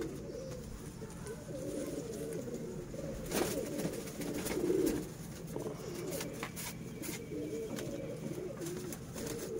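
Young flying pigeons coo in soft, low, repeated murmurs on a rooftop, steady and fairly close throughout, with a slightly louder swell near the middle.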